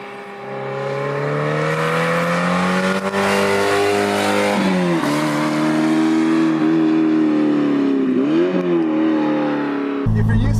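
Toyota MR2 engine heard from inside while driven through tight S-bends, a steady loud hum that rises and dips with throttle changes between corners, continuous and close.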